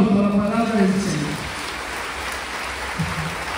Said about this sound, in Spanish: Fuertes aplausos a la palabra del Señor.